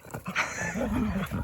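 A dog near a kitten gives a mix of whimpering, yipping and breathy panting, close and fairly loud, with voices faintly mixed in.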